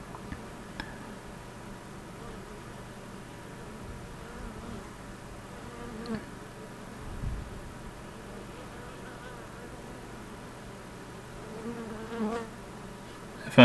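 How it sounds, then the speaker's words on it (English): Bees buzzing around a hive being broken down, a faint, steady, low drone with occasional small ticks and knocks nearby. "dealing with bees that are trying to sting you too much"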